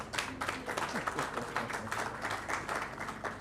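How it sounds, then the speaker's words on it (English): Clapping from a conference audience for a speaker at an international civil service event, a steady patter of many hands, moderately loud and sustained, with faint voices mixed in. "at least we should clap for her"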